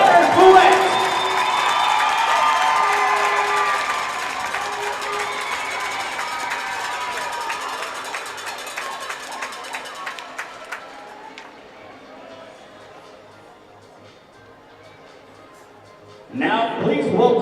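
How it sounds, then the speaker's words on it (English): Hockey arena crowd at a Shreveport Mudbugs vs. Odessa Jackalopes game cheers and applauds loudly for a defenseman, the roar fading after about ten seconds into a quiet hall before a burst of noise returns at the end. "please give a round of applause for our defenseman from St. Michael, Minnesota, Connor Couette."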